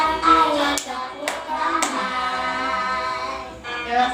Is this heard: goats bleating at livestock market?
no